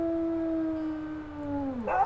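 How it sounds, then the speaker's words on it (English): A wolf in the video game WolfQuest lets out one long, steady howl that slowly falls in pitch and breaks off at the end, loud and close. "let's do a little howl for Atlas."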